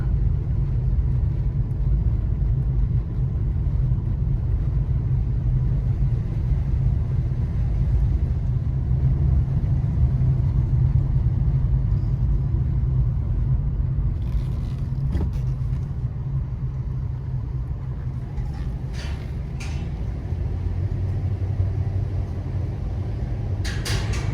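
A car rolls slowly along misty back roads, a steady low engine and tire rumble that stays constant and close, with faint brief rattles partway through and no voices.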